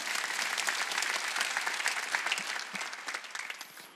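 Steady applause from a church congregation at a Korean Wednesday worship service, a dense wash of clapping that fills the whole stretch and fades slightly toward the end.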